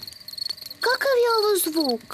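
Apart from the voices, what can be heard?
crickets chirping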